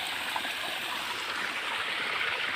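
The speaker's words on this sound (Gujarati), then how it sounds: "જો એટલે પાણી આવે છે" Water rushing steadily into a home swimming pool, a constant hissing, splashing flow at even loudness throughout, close by and with no voices.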